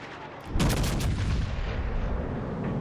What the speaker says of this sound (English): I try and do a little blind firing here